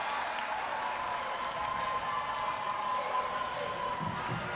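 Home fans cheer and roar at a high school varsity basketball game on senior night, a steady wash of crowd noise filling the gym with scattered claps, fairly distant and continuous throughout.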